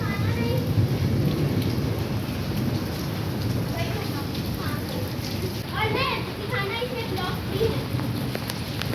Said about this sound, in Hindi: जब बारिश स्टार्ट हुई ना तो वेदर बहुत ज़्यादा प्लेजेंट हो गया